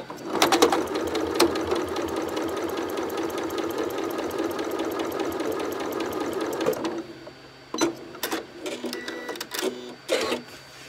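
A sewing machine stitches quilt fabric in a fast, steady mechanical whir for about seven seconds, then stops and gives a few short, uneven bursts of stitching.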